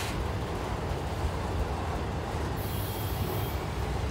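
Freight train cars rolling past close by in North America, a loud, steady rumble and clatter of wheels on rails with a high wheel squeal partway through, no voices.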